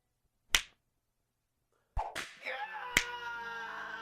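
Sharp whip cracks and smacks in a torture-chamber setting: one isolated crack, a pause, then a quick cluster of lashes followed by a ringing, sustained tone after a final loud crack.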